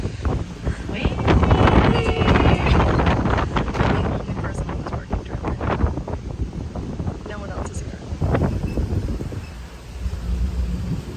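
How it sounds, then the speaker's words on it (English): Strong wind gusts roar and buffet the microphone outdoors on an evening Disney Springs outing at Walt Disney World, loud and continuous throughout with people talking beneath the rumble. "the wind is whipping over here"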